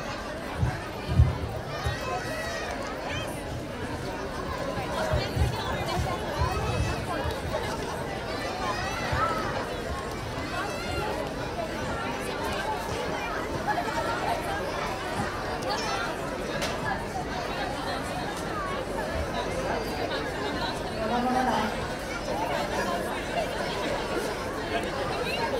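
A dense crowd babbles at an outdoor school carnival, steady overlapping chatter and shuffling filling the space near and far, with a voice occasionally speaking over the hubbub.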